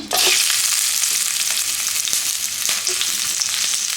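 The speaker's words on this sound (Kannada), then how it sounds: "ಸ್ವಲ್ಪ ಆಯಿಲ್ ಹಾಕ್ಕೊಂಡು ಇವಾಗ ಹೆಚ್ಚಿಟ್ಟಿರೋ ಆನಿಯನ್ನ ಹಾಕೋತಾ ಇದ್ದೀನಿ" Chopped onions sizzle steadily in hot oil on a stone pan, a continuous loud, close frying hiss with occasional soft stirring taps throughout.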